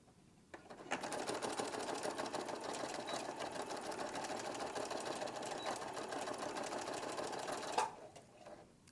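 A sewing machine stitches back and forth across the elastic strap of an N-95 mask in one fast, unbroken burst of close, rattling needle strokes lasting several seconds, then stops abruptly.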